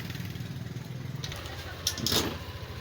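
A Yamaha NMAX scooter with a keyless knob fault sits idling close by with a low, pulsing putter, then a brief throttle blip and rev near the end; someone speaks briefly beforehand.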